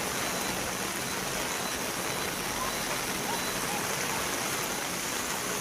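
Steady, dense roar of heavy monsoon rain in Valsad, Gujarat, mixed with rushing floodwater in low-lying areas, continuous and loud throughout with no breaks.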